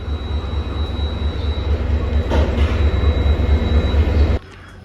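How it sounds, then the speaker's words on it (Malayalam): A Mysuru–Thoothukudi express hauled by a WP7 locomotive gives a loud, steady rumble of passing rail cars with rhythmic low wheel beats, then cuts off abruptly near the end. "ആ WP7 ആയിട്ട് കിടക്കുന്ന ഈ മൈസൂരിൽ നിന്ന് തൂത്തുക്കുടി പോകുന്ന എക്സ്പ്രസ് ആണ് കേട്ടോ"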